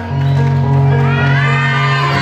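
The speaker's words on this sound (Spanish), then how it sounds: "Fuerte el aplauso para ella." A crowd at a school contest and coronation event at Feria Dexthi 2019 roars for a contestant, with loud, sustained whooping and shouting over steady cheering and a held tone running underneath.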